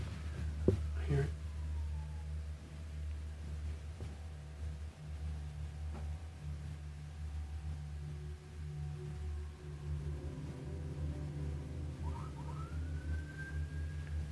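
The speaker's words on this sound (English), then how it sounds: "That's a police siren" A distant police siren wails faintly through quiet desert ambience, rising briefly near the end, with low background rumble.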